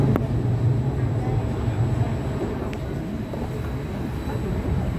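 Inside a moving train, a steady low rumble and hiss of travel noise runs continuously, with a faint click or two and no clear talk.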